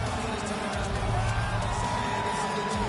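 Capacity arena crowd at a UFC event in Giunesse Arena, Rio de Janeiro, keeps up a steady, loud roar of cheering and shouting voices, a dense continuous wash with no breaks.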